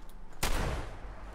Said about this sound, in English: Explody shotgun all over the place.